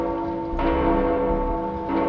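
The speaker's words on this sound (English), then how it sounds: "Why is the bell ringing?" A deep, resonant bell tolls in the video game Dead by Daylight, with two loud strikes and a long sustained ringing hum between them.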